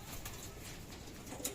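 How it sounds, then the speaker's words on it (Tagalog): Pigeons coo softly at a moderate distance, steady low murmuring calls with a brief brighter chirp near the end, set outdoors among kept birds. "Ayan yung iba natin ibon."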